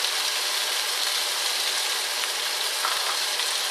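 Bacon frying in a pan for a tomato risotto, giving a steady, close hiss and crackle that carries on without a break and without any talk.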